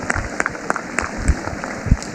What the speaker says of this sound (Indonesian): Tepuk tangan untuk pemuda Indonesia.